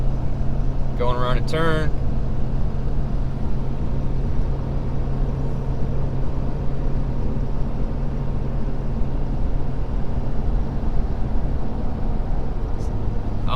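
Ford Powerstroke diesel pickup towing 14,500 lbs gains speed, its engine a steady low droning rumble with road noise heard from inside the cab while someone talks briefly near the start.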